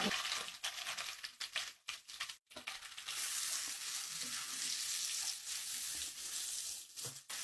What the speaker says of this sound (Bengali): পেঁয়াজগুলোকে সফট হয়ে না আসা পর্যন্ত এগুলোকে একটু ভেজে নিতে হবে